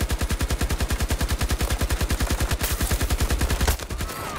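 Rapid sustained automatic fire from an RPT-31 light machine gun in the video game Battlefield 2042, a steady stream of close, loud, evenly spaced shots lasting several seconds before stopping abruptly.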